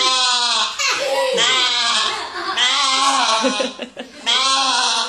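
A person imitates a goat with loud, wavering bleats, several quavering cries in succession close to the listener.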